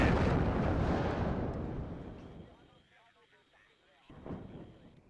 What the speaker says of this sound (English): The artillery's doing well.